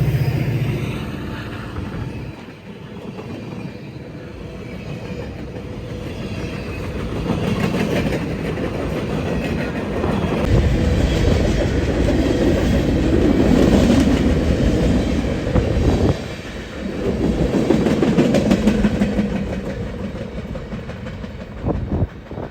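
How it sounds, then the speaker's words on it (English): A former Grand Trunk Western EMD SD40-2 diesel locomotive runs long hood forward pulling freight train L515. A deep engine roar swells as it passes nearby, and wheels clatter on the rails throughout, loud and steady with no talking. "L515 today is being operated by a former Grand Trunk Western EMD SD40-2 and as a bonus running long hood forward."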